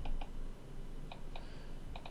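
Short quiet bursts of keyboard typing entering a Minecraft Pocket Edition server command, a handful of separate clicks spaced irregularly over steady background hum, with no talking.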